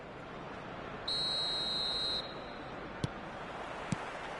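Referee's whistle in an eFootball match blows one steady, shrill tone lasting about a second over low crowd ambience, followed by two faint short clicks.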